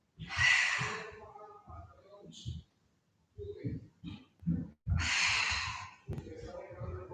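During a Pilates session, two long, audible breaths rush in and out close by. They alternate with soft, murmured speech and brief pauses.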